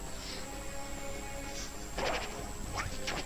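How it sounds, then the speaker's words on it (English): In a Pokémon video game battle, a Volt Switch attack strikes and shatters a substitute, giving a couple of sharp crashing bursts over steady game music. "The sub shatters, which does show that Volt Switch can destroy a sub without a crit right there."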